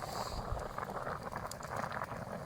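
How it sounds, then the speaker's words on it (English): Stew bubbles in a billy pot at an overnight shelter camp, a soft, continuous gurgle and simmer heard close and fairly quiet, with faint wind noise underneath. "It's bubbling away"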